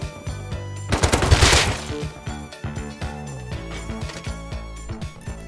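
Rapid gunfire during a base raid in Rust, loud bursts of shots with sharp impacts peaking early and then continuing as scattered cracks and clanks, without speech.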